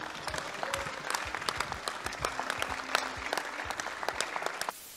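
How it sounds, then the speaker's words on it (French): Sustained applause fills the Assemblée nationale chamber as deputies clap across the benches, a dense crackle of many hands holding steady for about five seconds before cutting off abruptly. "je pense que nous pourrions une fois de plus ici, sur tous les bancs, les applaudir"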